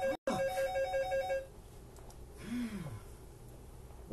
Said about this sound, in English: What is the phone going crazy for?